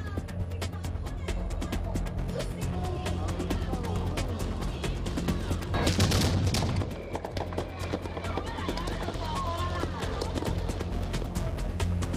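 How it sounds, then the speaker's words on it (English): A long string of firecrackers at a Taiwanese temple crackles in rapid, dense bursts at a distance, peaking with a louder flurry midway through. "Huge strings of firecrackers are set off to create the right atmosphere."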